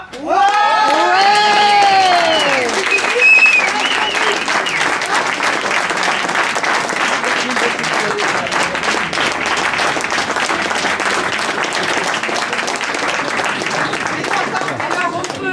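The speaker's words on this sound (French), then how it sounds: "on peut vous applaudir vraiment très très fort" Loud, sustained applause and cheering from a crowd at a charity cheque presentation to the League, with voices calling out over it near the start before the clapping settles into a steady dense roar.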